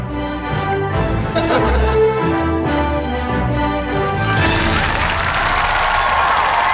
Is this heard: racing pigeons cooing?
no